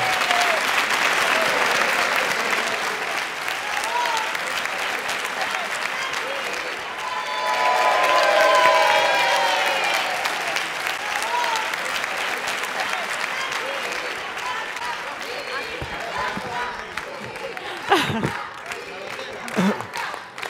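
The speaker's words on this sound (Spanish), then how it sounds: "Aplauso." Audience applauding at the final gala of a most-beautiful-village contest, a long continuous burst of crowd clapping that swells midway, with voices and a brief tonal sound mixed in, fading slightly toward the end.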